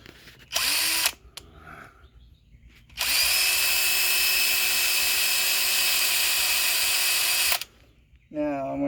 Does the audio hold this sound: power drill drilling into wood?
yes